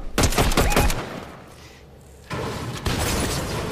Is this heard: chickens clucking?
no